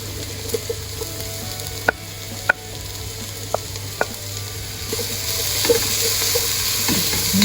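Ginger stirred into a frying pan with garlic for Ilocano beef papaitan, a steady sizzle punctuated by several sharp utensil clicks against the pan and a louder frying swell near the end.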